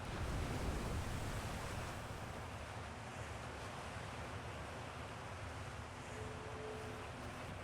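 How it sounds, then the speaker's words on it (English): Waves wash continuously in the Outer Wilds video game, a steady, broad rushing surf like wind-blown ocean water, soft and even throughout with no talk. "Why is there so much water noise?"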